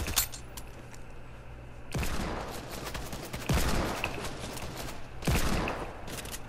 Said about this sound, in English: I hate the hand cannon so much.